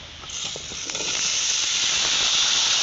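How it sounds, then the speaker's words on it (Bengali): Lentils and papaya fry in a pan with a steady, bright sizzle that grows slightly louder and holds close by. "এখন আমি পেঁপে আর ডাল ভালো করে ভেজে নেব"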